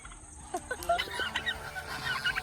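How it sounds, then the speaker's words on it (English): Geese and turkeys calling close by on a homestead, a scatter of short honks and gobbling clucks in quick irregular bursts over faint background noise. "Man, them geese and turkeys."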